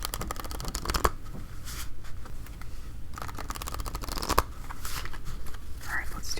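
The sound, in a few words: shuffling playing cards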